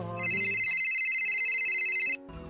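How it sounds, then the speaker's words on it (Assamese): A mobile phone ringtone sounds for an incoming call, a steady bright electronic tone held for about two seconds, loud and close, then it cuts off abruptly. "এদিন মোলৈ অচিনাকি নম্বৰ এটাৰ পৰা ফোন আহিল"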